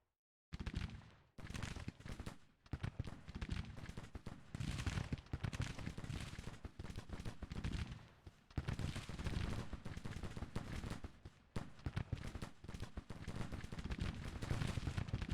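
Dense musket volley gunfire from a Civil War battle in the strategy game Grand Tactician: The Civil War, loud crackling rifle fire rolling almost continuously with brief lulls and renewed bursts, no talk.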